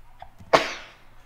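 A single sharp sneeze bursts out after a faint breathy intake, then trails off quickly into quiet room tone, during Roblox Pilot Training Flight Simulator gameplay.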